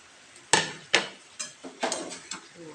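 Meat being stir-fried in a pan for kosha mangsho: a spatula knocks and scrapes against the pan in about half a dozen sharp, uneven clinks, close but fairly quiet.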